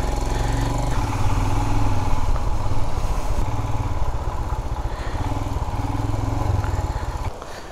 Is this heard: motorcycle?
yes